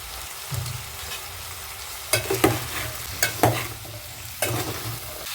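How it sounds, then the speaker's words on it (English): Green grams (mishiri) and chopped carrots fry in a hot pan under a steady sizzle, broken by several scraping stirs of a spoon that bring brief louder bursts. "I'll be adding my green grams or mishiri and carrots."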